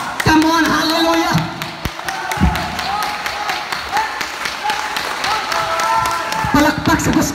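A church congregation at a fellowship service claps and cheers for God, loud sustained applause with a crowd roar, while a preacher keeps speaking over it.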